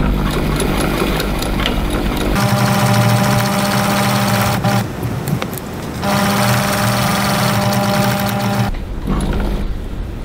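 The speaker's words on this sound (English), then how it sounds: "I'm going to stitch using a seam allowance of 3 millimeters 1/8 of an inch, and I'm stitching all the way around" A sewing machine stitches around a leather wallet with a loud, steady mechanical whir that stops briefly and resumes in sustained runs.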